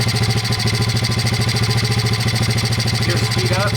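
Modded Honda pitbike engine idling after a carburetor adjustment, a close, loud, fast and regular putter with a steady rhythm throughout.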